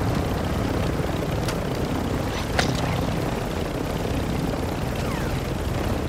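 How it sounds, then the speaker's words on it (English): An exfil helicopter leaving in Call of Duty, a steady distant rotor drone and engine rumble holding throughout, with a few faint sharp cracks of gunfire in the background. "that's an exfil helicopter. Yeah, it's leaving."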